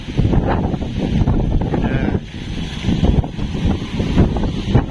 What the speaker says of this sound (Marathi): खूप वारा होता